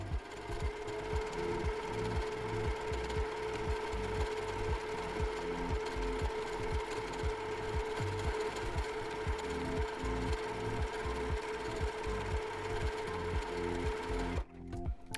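A sewing machine stitches a flower-themed quilt block with tiny back-and-forth twitch stitches, its needle pounding in a fast, steady rhythm that stays close and loud for the whole stretch before cutting off near the end.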